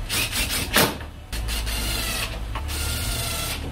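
Screws being driven into the license plate light housing of a Mercedes W204, giving steady close-up grinding and rubbing with a few sharper scraping bursts and no talking.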